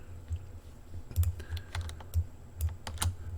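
Fingers key a value on a computer keyboard, a quick uneven run of close, crisp key clicks and soft thumps lasting a few seconds, alone and without speech.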